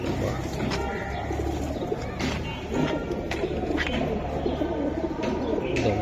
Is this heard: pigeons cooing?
yes